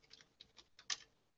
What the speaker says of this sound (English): Now I can type whatever I like in here.